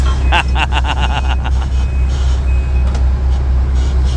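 A truck on a septic install site is driven roughly, with a loud engine rumble and a rapid train of reversing beeps early on, then continuing motor noise.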